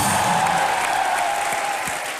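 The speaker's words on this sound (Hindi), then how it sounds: "एक बार अक्षय बाजी के लिए और श्रुति के लिए जोरदार तालियां हो जाए।" A studio audience at a comedy show applauds for Akshay Kumar and Shruti, a full, dense burst of clapping that tapers slightly toward the end.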